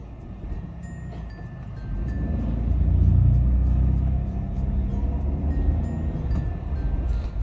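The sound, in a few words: manual car driving slowly past an oncoming car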